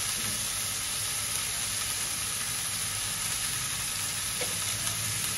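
Mixed vegetables with crushed peanuts stir-fry in a pan for a Sankranti mixed bhaji, giving a continuous steady sizzle with a faint scrape of stirring, close and even, with no talking.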